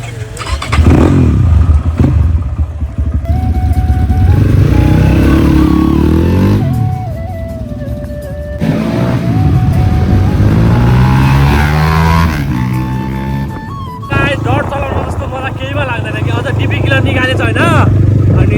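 A dirt bike engine revs loudly and keeps running throughout, rising and falling in pitch through several throttle surges, with a voice talking over it.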